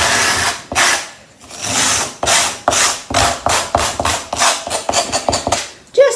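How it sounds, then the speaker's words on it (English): A wooden piece for a Jacob's ladder is rubbed back and forth on sandpaper pinned flat, giving loud, close, rhythmic rasping strokes that quicken toward the end. "I'm going to rub my bit of wood on my sandpaper."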